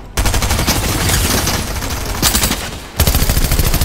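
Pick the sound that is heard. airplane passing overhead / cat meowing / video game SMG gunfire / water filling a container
video game SMG gunfire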